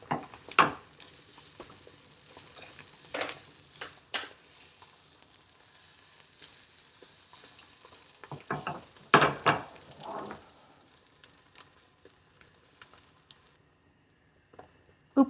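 Eggs frying in oil in a pan for pineapple fried rice, soft sizzling under intermittent louder scraping and stirring clatters, fading to near quiet toward the end.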